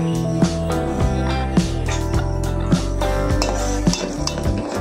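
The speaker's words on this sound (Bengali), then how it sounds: "তো কর্নফ্লাওয়ারটা দুধের সাথে আমি ভালোভাবে মিশিয়ে নেব।" Cornflour being stirred into boiled milk, heard as a steady run of spoon clinks and scrapes against a pot, repeating roughly once a second over a sustained tonal background.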